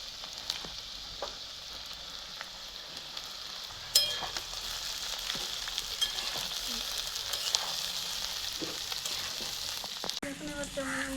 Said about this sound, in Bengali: পাতাকপি দিয়ে দিচ্ছি।